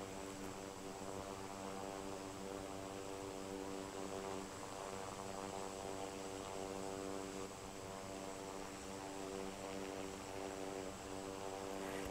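A Bombardier Dash 8 turboprop airliner's engines and propellers in the Infinite Flight simulator, a steady, loud droning hum with a constant tonal buzz throughout, uninterrupted and free of talk.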